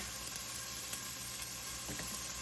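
Oil and bacon fat fry in a pan with a steady, fine, quiet sizzle that hisses evenly throughout, with a few faint pops and no talking.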